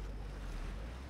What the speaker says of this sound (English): It's making splashing noisy water sounds.